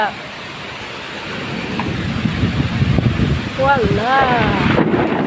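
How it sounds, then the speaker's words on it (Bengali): Heavy wind-driven rainstorm in Dhaka, the first storm after a long wait, a steady broadband roar of rain and gusting wind throughout, with a voice speaking briefly over it near the end. "ওইদিকে তো একদম দেখাই যাইতেছে না বৃষ্টি এতটা"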